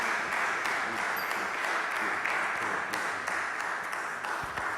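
Audience applause at a religious gathering, a dense, steady wash of many hands clapping that continues without break from start to finish.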